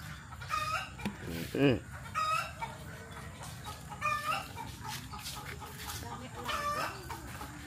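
Ducks on a farm quacking and calling in short repeated bursts at close to medium distance, with other fowl and people talking faintly in the background.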